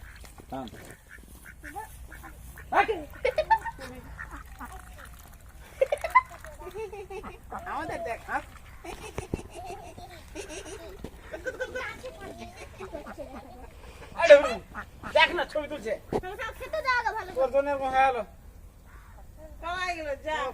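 Ducks quack now and then in the background while people talk and call out nearby over steady outdoor noise.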